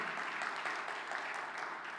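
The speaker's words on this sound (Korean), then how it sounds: "박수합시다." A church congregation claps steadily throughout a baptism service, a dense even patter of applause heard from a slight distance in a reverberant room.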